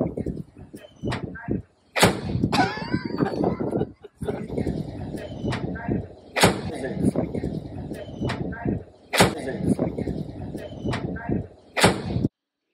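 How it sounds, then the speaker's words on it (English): Heavy steel hood of a 1941 Ford Super Deluxe business coupe being lowered and shut, several solid, crisp slams repeating at intervals, close and loud, with faint background noise between them. "My favorite thing about this car was the way it sounded when he lowered the hood."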